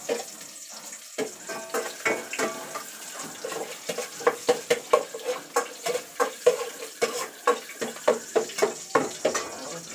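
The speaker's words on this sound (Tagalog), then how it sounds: "Igigisa na natin yung ating kare-kare. Habang pinapainit natin yung ating mantika." Kare-kare sautéing in hot cooking oil, with a busy sizzle under a rapid run of sharp clinks and scrapes from stirring in the pan, close and fairly loud throughout.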